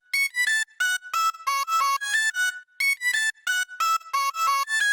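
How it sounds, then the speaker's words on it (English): Chopped vocal sample from a happy hardcore track, bright pitched syllables stuttering in quick rhythmic bursts with short gaps, loud and close, no talking over it. "which is another vocal chop"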